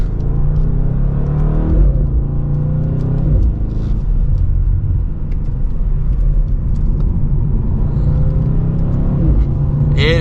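A BMW M850i or Lexus LC500 sports coupe accelerates hard, its engine note rising in loud, steady pulls with a shift or two, heard from inside the car.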